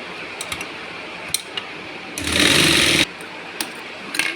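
A sewing machine runs a steady burst of close, loud stitching for about a second along the main seam of a Rajputi suit, with faint handling clicks before and after.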